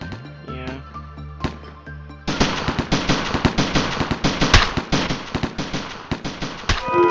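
Video game explosion in Lobotomy Corporation: a low tonal rumble with a couple of sharp hits gives way to a long, dense rattle of rapid crackling bursts, loud and close, with no voices.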